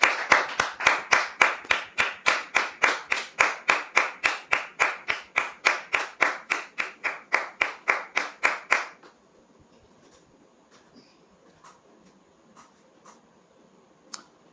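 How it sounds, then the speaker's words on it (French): A studio audience applauds a guest in unison, a rhythmic run of about thirty even claps for nine seconds, then quiet with a few scattered claps. "Merci maintenant de recevoir M. Oulaï sous vos applaudissements"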